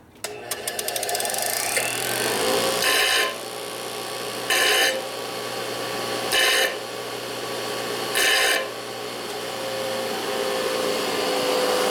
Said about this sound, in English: Okay, so I'm just going to grind this.